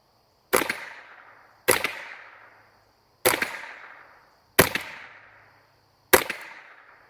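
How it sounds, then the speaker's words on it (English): Five sharp rifle shots from a 10-22 firing new .22 ammunition, spaced about a second and a half apart, each a loud crack with a short decaying tail, with no talking between them. "Let's see how it works in the 10-22. I've already loaded this magazine up, and we'll see how it shoots in the 10-22."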